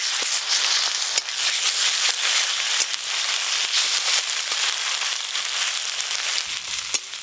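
Whole cumin, bay leaf, chopped onion and ginger-garlic paste fry in hot oil for aloo dum, a steady loud sizzle with scattered crackles and pops throughout, close and continuous.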